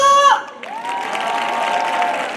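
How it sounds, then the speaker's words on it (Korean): A crowd at an elementary school centennial sports day in Okcheon, North Chungcheong, Korea, breaks into clapping and cheering. A sustained tone fades first, then a broad wash of applause and shouts carries on steadily at close range. "들으셨으면 박수!"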